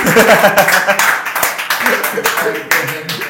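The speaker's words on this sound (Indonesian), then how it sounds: "Tepuk tangan lagi." Hands clapping in a brief round of applause during a lively talk show, with a voice heard over the claps.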